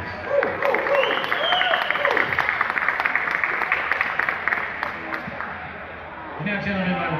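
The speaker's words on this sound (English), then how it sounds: "Clap for Carey and Ming" An audience at a comic book panel event applauds, a dense stretch of clapping lasting several seconds with a few sharp pings and crowd noise mixed in, fading briefly before picking up again.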